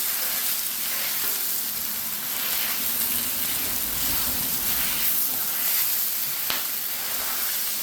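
Food sizzles steadily on a flat griddle, a continuous close frying hiss with faint scraping and one sharp tap near the end, no voices.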